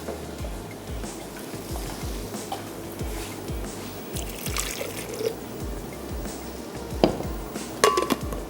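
Water trickles and splashes steadily into a grinder jar holding green coriander, with a few light clinks of metal near the end.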